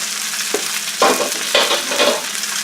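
Vermicelli-style spaghetti fries in a hot pan for a frittata, a steady bright sizzle with a few louder bursts as the noodles are stirred and shifted, close and without talk.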